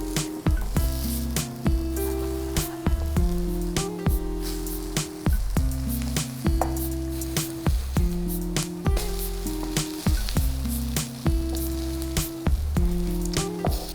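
Egg-soaked bread fries in a pan as French toast, a steady low sizzle running through the clip beneath a louder, regularly repeating tonal pattern.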